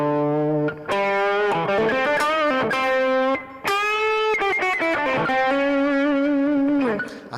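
Electric guitar through a Deluxe Reverb amp patch with light drive plays a melodic phrase of sustained, bending notes, close and steady, with a brief pause midway.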